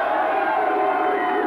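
A wrestling arena crowd cheers and roars in a dense, steady wall of voices, loud and sustained across the whole moment with no single voice standing out.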